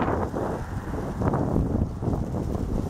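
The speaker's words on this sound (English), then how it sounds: "It's very windy here today." Strong wind blows outdoors on a town street in Mio, Michigan, a loud steady rumbling roar buffeting the microphone in gusts with no talking.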